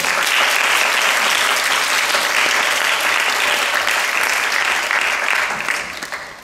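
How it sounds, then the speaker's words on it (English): Audience at a talk on criminalising marital rape giving a big round of applause, loud sustained clapping that holds steady and then begins to fade near the end. "they deserve a big round of applause"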